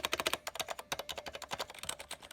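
Keystrokes on a Cherry MX 3.0S RGB mechanical keyboard with a metal case and muted, high-travel switches, tapped in a quick, uneven run of soft clacks, close up and alone.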